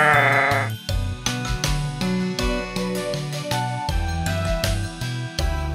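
A toy sheep from a Peppa Pig toy set bleats repeatedly in a steady, bright rhythm, with light jingling and musical tones throughout.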